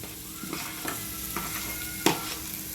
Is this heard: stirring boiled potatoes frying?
yes